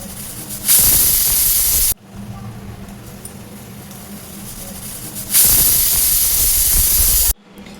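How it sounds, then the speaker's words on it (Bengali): A pressure cooker cooking mutton curry with potatoes lets out two loud, sustained hissing whistles, with a quieter steady simmering hiss in between. "কুকারে 4 থেকে 5টা সিটি মেরে নেব।"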